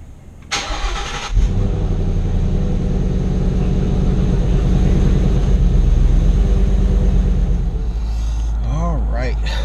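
A Ford Mustang starts up, its engine catching with a loud burst before settling into a deep, steady rumble up close; near the end, a voice speaks over the engine.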